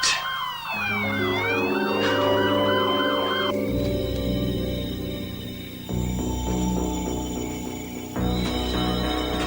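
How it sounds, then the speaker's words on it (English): Emergency vehicle sirens wail from more than one direction, rising and falling and overlapping, loud and continuous over a low rumble with no talk. "The ones fast approaching? All over the place."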